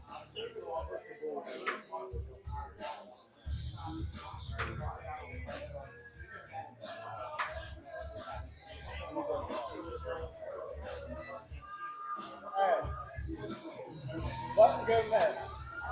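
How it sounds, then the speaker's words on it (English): A crowd murmurs and stirs in the background, a low, indistinct hubbub that swells now and then, with a voice talking over it. "You can hear the crowd supporting CJ Moon in the background."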